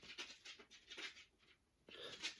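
A dog pants softly and rhythmically nearby, its quick breathy huffs coming in short bursts with brief pauses between them.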